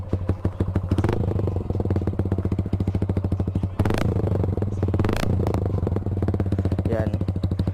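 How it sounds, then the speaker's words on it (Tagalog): Suzuki Gixxer motorcycle fitted with an Akrapovic full exhaust system, run without dB killer or silencer, a loud, close, deep pulsing engine rumble with rapid firing beats and several sharp revs. "sound checkin muna natin ng walang DB killer at walang silencer na Akrapovic full system"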